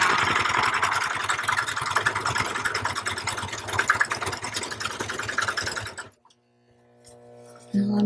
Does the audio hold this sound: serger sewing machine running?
yes